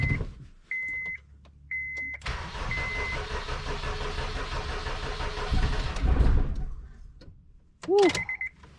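A car engine cranks and catches at about two seconds, then runs loud and steady with a rough, rising rev near six seconds, during work on a car with brake line trouble; a short voice cheers as it runs.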